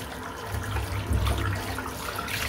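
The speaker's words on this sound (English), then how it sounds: "Just rinse this brush out." A shaving brush, a West Coast Shaving silvertip badger brush, rinsed under a running tap, giving a steady close splashing water rush throughout with no talking.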